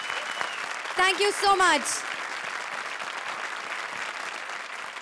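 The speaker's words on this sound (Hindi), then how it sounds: "एक बार फिर जोरदार तालियां फॉर जूही एंड वीआईपी" A studio audience at a comedy show applauds in a steady, dense wash of clapping throughout, while a voice briefly speaks over it.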